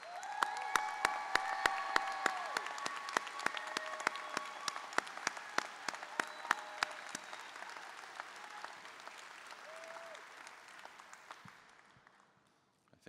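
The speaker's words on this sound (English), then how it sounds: "receive our applause?" A graduation audience applauds first-generation college students, a fairly distant, sustained wash of clapping with crisp individual claps on top and a few faint voices, tapering off toward the end.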